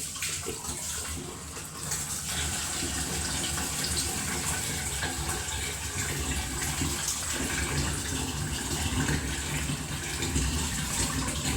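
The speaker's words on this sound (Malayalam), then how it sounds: "നമുക്കിത് ഓരോ ഗ്ലാസ്സിനകത്തേക്ക് ഒഴിക്കാം." Liquid pours into glasses in a home kitchen, making a steady, rushing watery stream that holds at an even level from start to finish, fairly close, with no voices.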